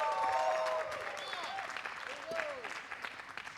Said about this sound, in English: A big applause for Clara Intelligence